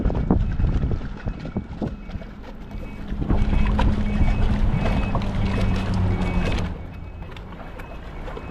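Strong wind gusts across an open stretch of water from a boat, a broad rumbling roar that swells louder midway and then eases off, with wind buffeting the microphone throughout.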